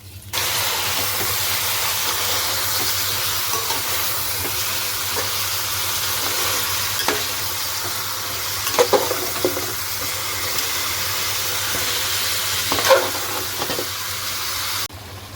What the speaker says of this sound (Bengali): ওই তেলেই চিকেনটা দিয়ে দেবো একটু ভেজে নেবো চিকেনটা